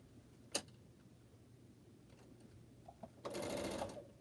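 A sewing machine sews pineapple quilt blocks, with a brief click early on and a short burst of rapid stitching near the end, fairly quiet against a soft background.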